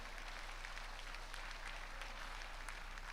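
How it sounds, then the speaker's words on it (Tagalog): A church congregation applauds together in steady, dense clapping that fills the space evenly throughout, with no voices heard over it. "Palakpakan po natin ang ating Diyos"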